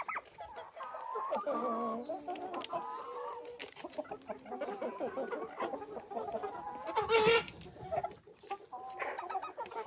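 Laying hens and young chicks cluck and call nearby in a farmyard, several overlapping clucks and squawks with a louder burst near the end.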